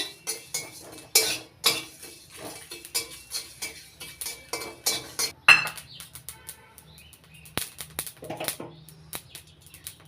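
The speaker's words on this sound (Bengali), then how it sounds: "জিরে এক চামচ ধনে এক চামচ রাঁধুনি হাফ চামচ খালি খোলা ভেজে নিচ্ছি মশলাটা" Cumin, coriander and radhuni seeds dry roasting in a pan for a katla fish curry, with repeated close clinks and scrapes of a utensil against the metal, in uneven bursts throughout.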